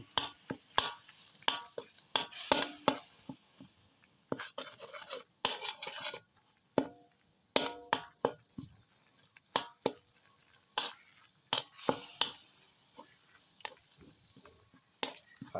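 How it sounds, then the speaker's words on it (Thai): Curry paste and shrimp paste are stirred into coconut milk in a pot, with a spoon scraping and clinking against the pot in short irregular strokes, close and fairly quiet, with no talk. "คนส่วนผสมให้เข้ากัน"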